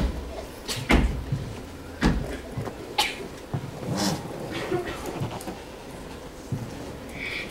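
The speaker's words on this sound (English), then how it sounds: "Little Red Riding Hood knocked at the door." Several sharp knocks land on a door at spaced intervals, each one close and distinct against a quiet room.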